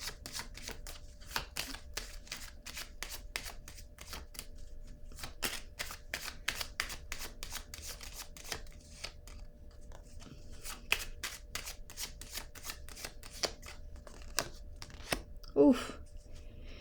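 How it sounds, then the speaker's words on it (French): Tarot-style cards are shuffled and drawn by hand, a steady run of quick papery flicks and riffles, close and moderately loud, ending with a brief louder snap as a card is pulled. "Je vais piger une autre carte."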